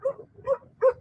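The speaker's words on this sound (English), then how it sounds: "Lots of dogs." Three short, evenly spaced dog barks or yips in Lobitos, Peru, a small, quiet surfer town, moderately close and alone in a quiet setting.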